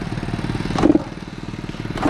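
A Honda CR85 dirt bike engine idling with no throttle, a steady close, throbbing putter with a brief louder clatter partway through, running alone without speech.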